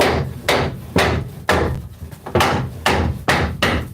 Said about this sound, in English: And I'll show you how we do the hammer thing.